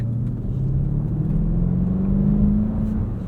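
The V8 engine of a 2023 BMW X7 M60i gives a low, steady bellow while driving at night, a continuous rumble that swells slightly partway through, with no talking.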